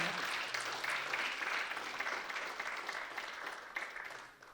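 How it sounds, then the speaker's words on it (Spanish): A church congregation gives a loud, sustained round of applause that fills the whole stretch and fades slightly toward the end. "Démosle otro fuerte aplauso a él."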